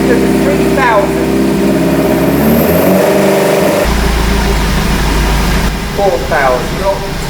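Revs climb toward 3,000 on a Pilgrim Sumo AC Cobra replica engine, with a steady loud hum that shifts to a rougher, heavier tone midway, and voices speaking intermittently over the running engine.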